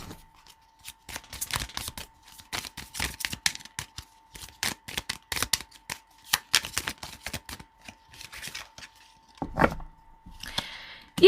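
Tarot cards are shuffled by hand in rapid bursts of crisp riffling and slapping, irregular clusters of sharp papery clicks, close and fairly loud, with a faint steady hum underneath.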